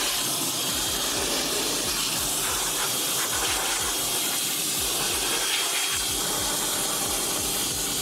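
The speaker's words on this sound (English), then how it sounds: "Get them going with the pressure washer." A pressure washer blasts water steadily across the engine bay of a 2015-2019 Subaru WRX STI, a loud continuous hissing spray with gushing, splattering texture that holds without pause for the whole stretch.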